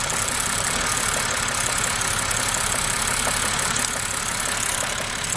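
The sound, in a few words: 2006 BMW E90 engine idling with vibrations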